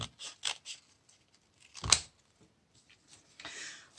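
Scissors cutting a paper coffee filter to shape rose petals, a series of close crisp snips and rustles in uneven bursts, one sharper cut standing out, with no one talking.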